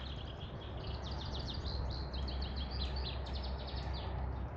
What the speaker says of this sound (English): those birds were just way too awesome, so I had to stop and listen